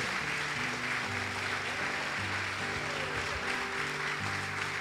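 A church congregation applauds during a worship service, a continuous wash of clapping held at a steady level while sustained keyboard chords play underneath.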